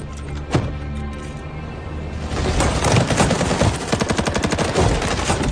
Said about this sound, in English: we have reports of automatic gunfire at the Beckwith Ranch